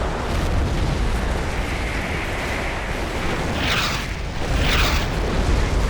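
Howitzer artillery fire in the WWII strategy game Company of Heroes, a 4v4 Operation Market Garden match, produces a dense, continuous rumble of booms and blasts, with sharper bursts standing out near the end.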